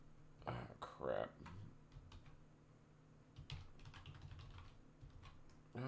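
Typing on a computer keyboard at a different computer, scattered soft key clicks in irregular bursts, fairly faint and close, with a person talking over part of it.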